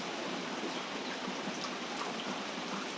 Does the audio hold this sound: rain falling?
yes